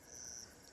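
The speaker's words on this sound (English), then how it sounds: "I just heard a rare club-horned grasshopper." A club-horned grasshopper gives a thin, high, steady chirp, brief and faint against a quiet background.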